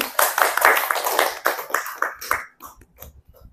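Applause for Bu Fitri from the audience at an online school guidance-counseling practice-sharing session, a burst of dense clapping that thins into scattered claps and fades out after a few seconds.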